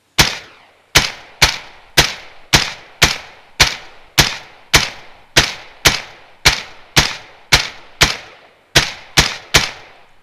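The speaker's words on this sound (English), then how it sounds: "I'll take a couple shots at him. I've got a suppressor." Suppressed rifle shots in the VR shooter Exfil Zone, about fifteen sharp, evenly spaced cracks at roughly one per second, each fading quickly, loud and close with nothing else in the background.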